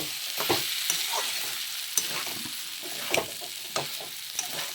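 Raw jackfruit pieces stir-frying in a pan with ginger, garlic, onion, cumin and coriander spices: a steady sizzle broken by scraping stirs and occasional clinks of the spatula, close up with no voices.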